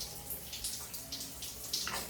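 Tap water running steadily while hair is wetted, a soft broadband splashing and trickling with small rises and splutters throughout, fairly close and with no talking.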